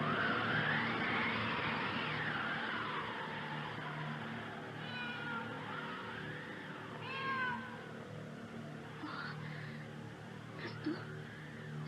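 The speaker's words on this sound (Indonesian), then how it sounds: "Sepertinya kucing itu sedang berjalan-jalan di atas atap rumah ini." A cat moves across a house roof and gives several faint, drawn-out meows from some distance away, over a constant background hiss.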